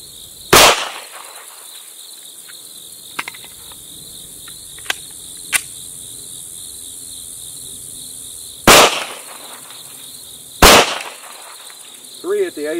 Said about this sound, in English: This time I'll be shooting at the third target.